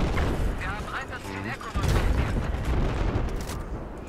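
Battlefield 4 combat: heavy booms and gunfire rumble through the mix with a loud burst of explosive noise near the middle, while a voice talks partway through.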